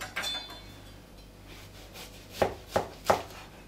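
A knife chops an onion on a board with a few soft early strokes, then three distinct, evenly spaced crisp cuts close up in a quiet kitchen with no talking.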